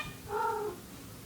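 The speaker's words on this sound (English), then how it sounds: "Cats are really playing." Playing cats give one drawn-out yowl that rises over a low, muffled room background. It is moderately close, brief and alone, with no talk.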